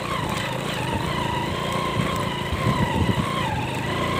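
A motorcycle engine drones steadily as the bike climbs a mountain road, a close, continuous mid-pitched hum with slight rises in pitch and no talk over it.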